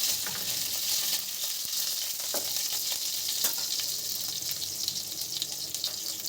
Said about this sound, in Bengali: আবার কড়াইতে সর্ষের তেল দেব। এখানে 5 ফোড়ন দিলাম আর দেব কাঁচা লঙ্কা।